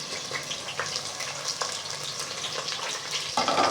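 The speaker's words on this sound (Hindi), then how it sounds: "तेल गरम होने के बाद अब प्याज डाल देंगे" Chopped onions fry in hot oil for a Pakistani green bean and potato dish, a continuous soft sizzle with crackling spits, swelling louder near the end.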